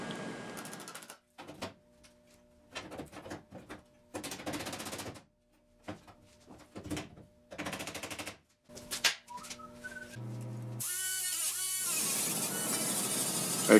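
Welding a patch panel onto the body of a 1966 Triumph Spitfire MK2 during restoration: close, loud bursts of crackling weld sound in several separate runs, broken by short pauses, ending with a steadier hiss.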